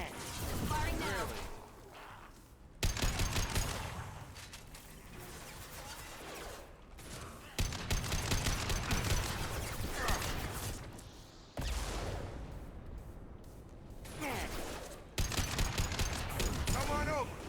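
Gunfire in a sci-fi shooter video game firefight, bursts of rapid automatic fire and mechanical clatter in separate loud stretches, with voices speaking between and under the shots.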